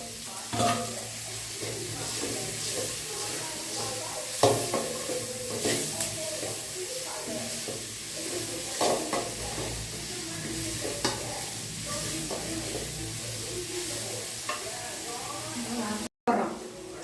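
Steady sizzling of ginger and garlic frying in a pan, with stirring clinks and scrapes throughout and voices murmuring faintly in the background.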